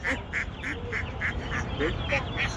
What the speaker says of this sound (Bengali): এখানে কিছু হাঁস আছে দেশি হাঁস আছে এবং বেলজিয়াম হাঁস আছে